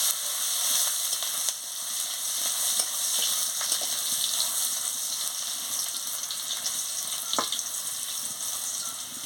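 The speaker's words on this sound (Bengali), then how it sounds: "রসুনের বাটা দিয়ে দিচ্ছি দিয়ে ভালো করে ভেজে নিচ্ছি" Garlic paste fries in hot oil with dried red chilli in a pan, a steady close hissing sizzle with faint scraping stirs now and then, no voices.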